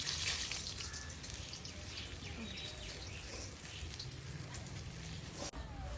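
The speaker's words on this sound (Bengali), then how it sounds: "বেগুনটা ভেজে নিচ্ছি।" Eggplant fries in a pan with a continuous fine, hissing sizzle and light crackle, fairly faint and steady throughout.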